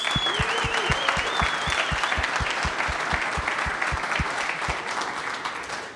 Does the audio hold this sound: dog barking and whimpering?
no